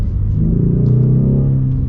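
A 2023 Ford Mustang EcoBoost with a performance exhaust gives a deep, steady, loud rumble close by, holding an even drone without any talking.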